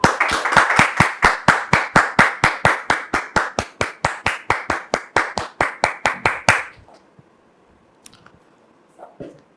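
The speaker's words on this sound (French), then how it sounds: "sous vos applaudissements" Studio audience applause on a French-language talk show set, a burst of rhythmic unison clapping about twenty-five sharp beats long, loud and steady, then cutting off abruptly into near silence.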